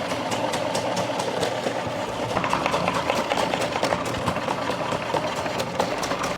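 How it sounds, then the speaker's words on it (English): Peeled potatoes fed through the chute of a running food processor being sliced, a steady motor whir with rapid rhythmic chopping clicks throughout, close and fairly loud, no talk. "cut them a little bit down to size so they can fit through the chute of the food processor"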